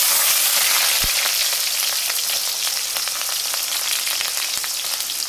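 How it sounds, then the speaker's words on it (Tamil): Shallots sizzle steadily in hot oil with mustard seeds for a Chettinad-style chicken curry, a loud, dense, continuous frying hiss with a few sharp crackles and pops scattered throughout and no voices. "சின்ன வெங்காயம் நல்லா கோல்டன் ப்ரௌன் கலர் வர அளவுக்கு நல்லா வதக்கி எடுத்துக்கணும்"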